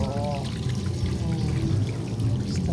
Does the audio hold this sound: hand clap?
no